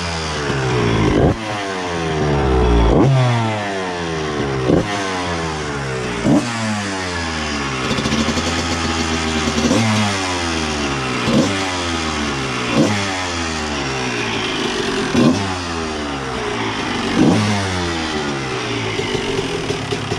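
Honda 125 CR two-stroke motocross bike, an old steel-frame model, warming up: a close buzzy engine idling and blipped in repeated sharp revs, the pitch rising and falling roughly every two seconds, with no talking.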